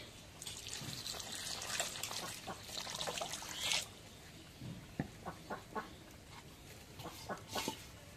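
Water is poured into a kadai holding soya chunks for steaming, a splashing trickle at first and then sparse drips and clinks, quiet and close, with chickens clucking nearby.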